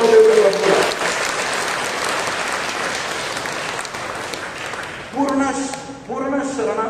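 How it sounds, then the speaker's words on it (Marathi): A church congregation at a Friday prayer service claps loudly and steadily, the applause holding for several seconds before a voice comes in over it, then a second voice. "प्रभूला आपण टाळ्या वाजवून प्रभूचा गौरव देऊ."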